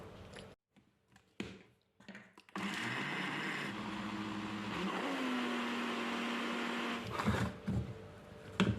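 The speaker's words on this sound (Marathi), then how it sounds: "आणि हे आता मिक्सरवर ग्राइंड करून घ्यायचं." A kitchen mixer grinder whirs loudly and steadily as it blends coconut chutney with cumin powder, pepper powder and a little water, the motor running continuously for several seconds after a few short clicks and knocks.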